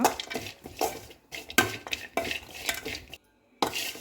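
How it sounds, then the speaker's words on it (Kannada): Dry coconut being stirred and fried in a pan: close, fairly loud scraping strokes of a spatula against the metal come in quick irregular bursts, with a brief silent pause near the end and no talking. "ಇದೇ ಬಾಣಲೆಗೆ ಕೊಬ್ಬರಿ ಹಾಕ್ಕೊತಾ ಇದ್ದೀನಿ. ಒಣಕೊಬ್ಬರಿ 1 ಕಪ್ ಇದೆ. ಇದನ್ನು ಚೆನ್ನಾಗಿ ಫ್ರೈ ಮಾಡ್ಕೊಳ್ಳೋಣ."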